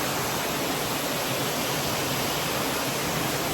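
Dense, continuous roar of rushing water at a waterfall by Tay Thien temple in Vietnam, a loud, steady broadband wash with no breaks or voices.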